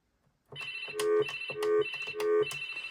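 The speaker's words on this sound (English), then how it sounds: "phone noises." Toy telephone ringtone from a 2006 VTech Grow and Go ride-on plays loud and close, a bright electronic ring repeating in three even bursts after a short silence.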